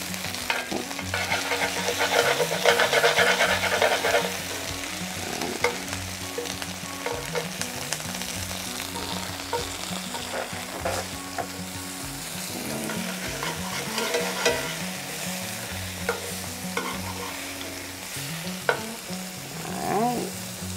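Dutch oven biscuits fry on a stove top after being flipped, giving a steady close sizzle that runs throughout with occasional stirring scrapes and clinks.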